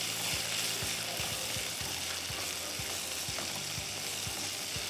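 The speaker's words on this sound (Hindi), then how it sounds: "ज़रा मैं अदरक को भी ना थोड़ा सा I want to fry it" Ginger frying in a pan, a steady close sizzle with soft crackles and repeated light stirring or scraping clicks, no talking over it.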